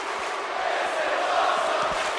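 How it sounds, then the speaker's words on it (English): A packed wrestling arena crowd at an AWL show roars and cheers in a continuous, swelling wash of voices, loud and close. "And gets the same reaction out of the crowd."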